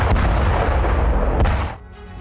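Russian howitzer artillery fires near Donetsk, a loud, deep, rumbling blast that rolls on for under two seconds before cutting off abruptly into quieter background noise.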